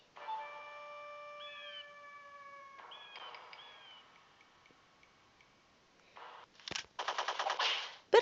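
Enemy machine gun fire in a prison escape video game arrives near the end as a loud rapid burst, following quieter electronic tones and game sounds earlier on.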